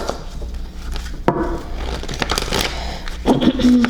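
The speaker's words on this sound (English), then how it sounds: "let's do a few more shuffles" Tarot cards being shuffled in several quick riffling bursts, fairly close, with a low background hum and a few faint vocal sounds near the end.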